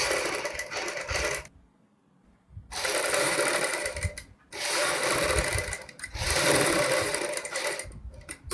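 Sewing machine stitching a kurti neckline with buckram, running in three steady buzzing bursts separated by short pauses, close and loud, with a voice talking during the quiet gaps.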